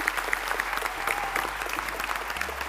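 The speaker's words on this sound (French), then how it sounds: "Vous pouvez les applaudir bien fort s'il vous plaît." An audience at a Ma Thèse en 180 secondes final in Poitiers applauds, a dense, steady wash of many hands clapping together at moderate volume.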